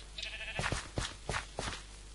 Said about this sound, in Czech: Tady byla někde nějaká ovce.